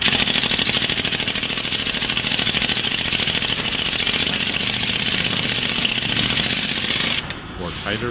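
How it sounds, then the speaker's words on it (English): Pneumatic ram compacting foundry sand in a mold flask: a loud, continuous rapid hammering rattle that runs steadily throughout and briefly shifts tone near the end, with no talk. "For tighter compaction, he uses a pneumatic ram."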